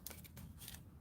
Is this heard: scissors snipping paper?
yes